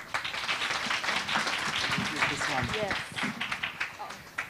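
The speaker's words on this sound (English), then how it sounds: "Let's give Mr. Jean-Luc a big round of applause." Audience applause at an international organizations career information session welcoming a UNDP speaker, a busy run of claps that thins toward the end, with some voices talking underneath.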